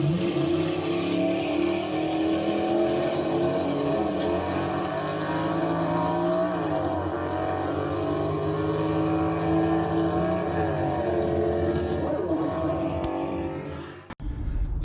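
Steady drone of a car driving along a Florida road, engine and tire noise holding an even level with slight shifts in pitch, ending abruptly with a brief clunk.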